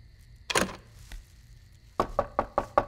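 Knocking on a door at night: one early thump, then a pause and a quick series of five sharp raps on the wood, close and loud.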